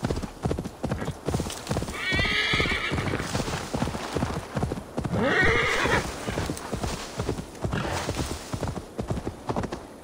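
Rapid clip-clop of hooves pounding continuously in the video game Assassin's Creed Valhalla, broken by two loud horse neighs, one early and one midway.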